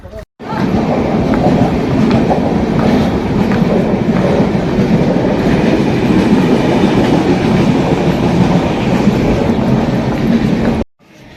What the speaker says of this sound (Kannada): ಟ್ರೈನ್ ಬಂತಂತೆ.